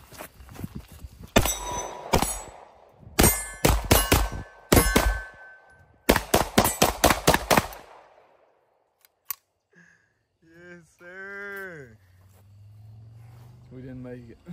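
A Vector gun firing several loud, sharp strings of rapid shots with short pauses between them, followed by people talking after the shooting stops.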